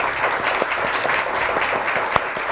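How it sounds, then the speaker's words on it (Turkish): Steady applause from a studio audience on a Turkish word-quiz game show, a dense even clapping that runs continuously for a couple of seconds at close range, with no talking over it. "Kocaman da alkışlar kendisine."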